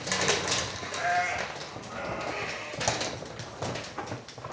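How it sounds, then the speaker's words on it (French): A flock of ewes at pasture bleats in overlapping calls against a continuous outdoor background, several animals sounding at varying distances without a break. "Les brebis se nourrissent dans les pâturages, mais Sophie complète leur alimentation avec"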